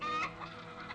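Chickens clucking as a film sound effect, a dense flock of hens chattering loudly and continuously through the short moment with no voices over it.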